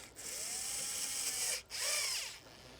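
A power tool drives a clamp tight on a K&N cold air intake fitted to a Honda Civic, with two short high-pitched whirring bursts separated by a brief pause, heard close and fairly quiet without speech.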